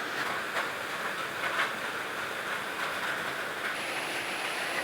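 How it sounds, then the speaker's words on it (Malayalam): Heavy rain falls outside as a steady, even hiss heard from indoors, continuous and moderately loud with no voices. "നല്ല മഴയാണ്."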